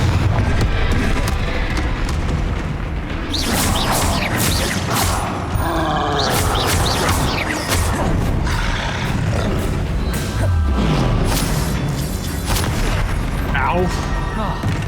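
Spell explosions in the Hogwarts Legacy video game, booming and crashing in a dense, continuous battle mix with repeated blasts and impacts, loud throughout, with combat voices and effects layered over them.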